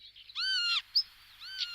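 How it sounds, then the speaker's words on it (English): Birds at a coastal lagoon in Cádiz, where lapwings and ducks live, calling clearly in short tonal bursts, one drawn-out call followed by a brief chirp and another call, near and with no other sound. "Lapwings, ducks, blackstalks, together with abundant coots, are just some of the many and varied species of birds that come and live here."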